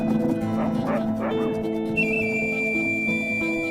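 A pack of sled huskies at a family kennel in the snow barks and yips in quick overlapping bursts, with a whimper and a whistle-like tone later, fairly close and steady.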